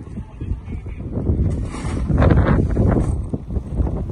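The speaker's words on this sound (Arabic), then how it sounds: "بلش يدخل هواء مثل ما سامعين صوت الهواء كتير قوي" Strong wind gusting during a snowfall in Gothenburg, Sweden, a loud, close roar that swells and rustles against the microphone, with faint wintry outdoor noise underneath.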